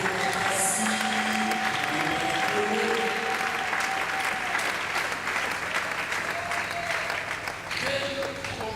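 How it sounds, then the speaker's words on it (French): Church congregation applauding loudly during a service, a strong, continuous burst of clapping from many hands, with voices and musical tones sounding beneath it. "Est-ce qu'on peut applaudir très fort la parole du Seigneur?"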